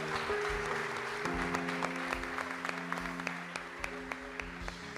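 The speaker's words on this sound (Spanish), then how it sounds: "Dale un aplauso grande a Jesús." Church congregation applauding during a worship service, a steady broad clapping wash under a sustained keyboard chord and organ-like tones throughout, with sharp individual claps standing out.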